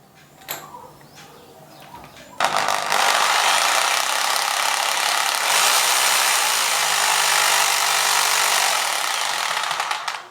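A few faint taps, then a loud rotary hammer drill starts drilling concrete and runs steadily, its harsh pounding whine continuing close by until the end.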